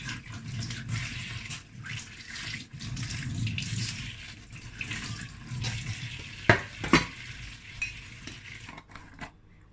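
Onions are washed under a running tap, with a steady splash of water and rustling handling, plus a few sharp knocks near the end and no talking.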